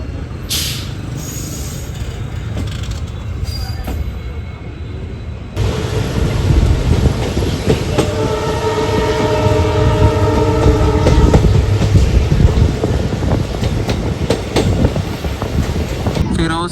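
Passenger train running on the single-track line from Firozpur to Bathinda, a steady rumble of rolling wagons that swells after a quieter start, with a long horn-like tone and some faint voices underneath.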